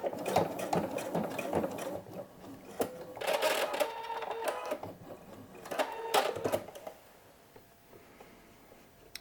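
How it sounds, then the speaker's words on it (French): A sewing machine stitches a backstitch on a jacket in short bursts of fast, rattling needle action, with pauses between runs and quieter handling at the end. "Et là, je fais un point d'arrêt."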